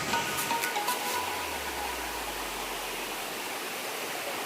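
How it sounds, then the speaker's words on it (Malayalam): Water falling at Thusharagiri waterfall near Calicut, a steady broadband rush heard from nearby, continuous and even, with a faint low tone passing underneath and no voices. "നല്ല വെള്ളം വീഴുന്നതിൻ്റെ സൗണ്ടൊക്കെ കേൾക്കുന്നുണ്ട്."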